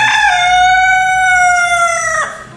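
A long-tailed ornamental rooster crows once, close and loud, in a single sustained, harmonically rich call that holds steady before breaking off sharply at the end.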